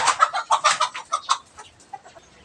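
Chickens on a sturdy roost cluck in a quick series of close, loud calls that taper into softer, sparser clucks.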